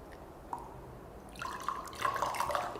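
Kangen water at pH 11.5 is poured onto oil, giving a soft drip followed by a trickling, splashing stream of liquid close by after a quiet start.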